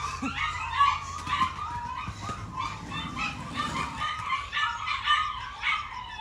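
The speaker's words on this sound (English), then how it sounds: "we got the singing chihuahuas" Chihuahuas barking and howling together in a high, wavering chorus of yips and drawn-out howls that carries on steadily throughout.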